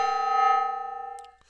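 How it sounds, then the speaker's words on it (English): A struck gong rings out in a single sustained metallic tone that fades away over about a second, with no voices present. "The gong has been hit."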